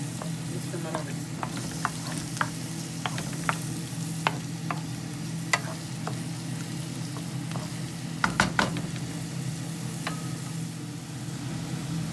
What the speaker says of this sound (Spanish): Los camarones están cocinando